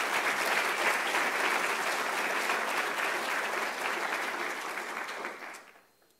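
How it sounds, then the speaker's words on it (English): Steady, dense applause from an audience at a student ingenuity awards event, loud and sustained for about five seconds before quickly fading out. "let's have a big hand one more time for the Olsons and all the Ingenuity awardees"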